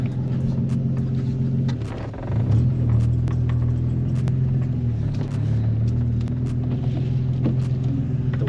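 A Nissan 350Z with a stock clutch on a test drive, its engine droning steadily with a low rumble that swells briefly as it shifts, close and continuous throughout.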